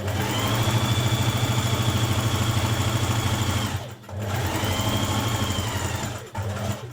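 Sewing machine stitching the side seam of a sweatshirt runs in a fast, steady mechanical whir, pausing briefly twice before resuming, close and clear with no talking.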